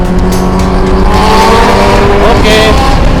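A motorcycle with a standard exhaust revving hard during a group Sunday ride, a loud, steady engine roar close by that climbs in pitch, with a high whine near the end.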